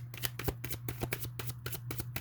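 Tarot cards being shuffled by hand in quick rhythmic riffles and slaps, close and fairly quiet, with no talking.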